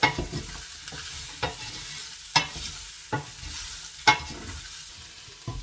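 Vegetables cooking and caramelizing in a pot over medium-high heat for ropa vieja, a steady close sizzle broken by sharp periodic scrapes and clacks of a spoon stirring against the pot, with no talking.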